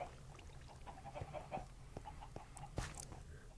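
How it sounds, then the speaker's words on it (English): Minecraft chickens clucking in a short string of soft, separate calls over a steady low game background hum, with no talk. "Have chickens, endless supply of chicken."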